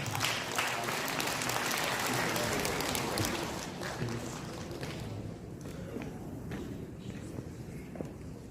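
Loud, dense applause from an audience at a political gathering in Incheon with party leader Hwang Kyo-ahn, sustained for several seconds and easing slightly toward the end, with a few voices mixed in.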